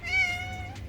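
A single indoor house cat gives one clear, drawn-out meow of under a second, close to the microphone over a low background hum.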